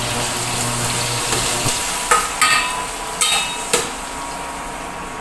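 Small to medium shrimp are sautéed with one salted egg in a pan, giving a soft sizzle under a few sharp clicks and taps from the spatula scraping the pan.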